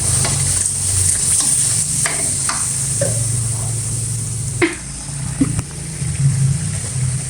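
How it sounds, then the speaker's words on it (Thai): Curry paste stir-fried with shallots in a hot pan, a steady loud sizzle with scraping stirs of a spatula throughout, a few sharper clinks and splashes midway as water goes in. "ผัดให้พริกแกง เข้ากับกระเทียมหอมเลยจ้ะ"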